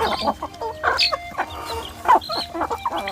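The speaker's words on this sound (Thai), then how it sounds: "นี่ไก่บ้าน" Village free-range chickens clucking close by in a steady series of short, choppy calls, with a low background hum throughout.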